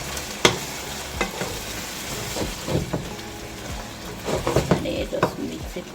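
Ackee and salt fish are stirred in a frying pan, with a steady soft sizzle under scattered scrapes and clinks of a utensil against the pan, close by.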